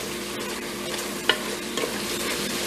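Spices, including dried thyme, cayenne, black pepper, garlic powder and cumin, are stirred into a pressure cooker pot, with a low sizzle under scraping stirs and a sharp clink of the utensil against the pot.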